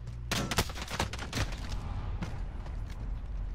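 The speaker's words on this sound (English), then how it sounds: "I'll kill you with the pistol." Pistol shots in a first-person shooter game crack out in a quick burst of several sharp reports, followed by a few sparser shots under a constant game background.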